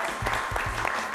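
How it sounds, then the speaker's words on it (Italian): Audience applause at a televised quiz show, a short burst of clapping with a few sharper claps standing out near the end. "Facciamo anche un applauso a Alessandro Talotti, che si è messo in gioco con la propria squadra."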